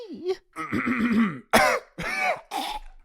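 A few short bursts of throat clearing and coughing, close and fairly loud, with a rough voiced rasp between pauses.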